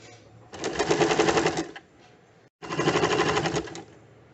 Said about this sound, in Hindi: इसके ऊपर पट्टी को लगा दें और सिलाई कर दें